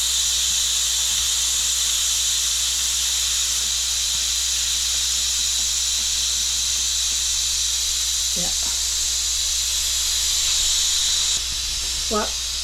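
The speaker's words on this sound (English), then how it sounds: "let out the steam. Quick release, I think they call this." Steam hisses steadily and loudly from a pressure cooker's quick-release valve as homemade tomato chutney finishes cooking in a home kitchen, a continuous rush with a couple of faint knocks near the end.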